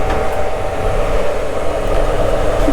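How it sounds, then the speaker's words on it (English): A CNC router spindle runs steadily during a guitar build, giving a loud, continuous whine with a constant hum underneath and no break across the short stretch. "we can shut off that spindle"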